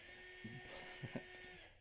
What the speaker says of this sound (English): She's still playing with the drill.